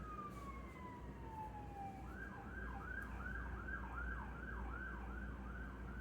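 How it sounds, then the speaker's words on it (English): A siren wails in the distance, first a long falling tone, then a steady rising-and-falling yelp repeating over low traffic rumble. "Sorry about the sirens, guys."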